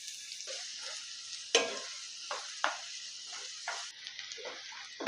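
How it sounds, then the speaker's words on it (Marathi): Two finely chopped medium onions frying in oil in a pan, a steady bright sizzle with sharper crackles and spatters as they are stirred, close and alone without talk. "तेलात हे मी दोन मध्यम आकाराचे कांदे असे बारीक चिरून घेतलेले आहेत हे आता आपण फ्राय करूया"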